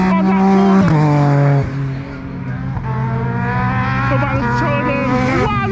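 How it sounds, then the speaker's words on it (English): A time-attack race car, among others an Evo 9, drifts through a corner at Anglesey circuit, its engine droning loud and steady with shifting revs and a drop in pitch midway, heard close with wind buffeting the microphone. "look at Ben Robinson drifting"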